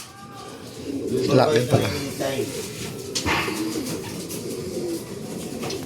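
Racing pigeon arriving at the loft during a derby, soft low cooing heard in short bursts close by, with someone talking over and between the calls.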